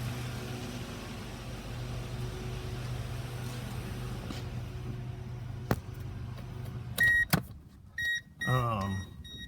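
A 1997 Mercedes-Benz E420 (W210) engine idles with a steady low hum throughout, followed near the end by a few mechanical clicks and a short whirring sound.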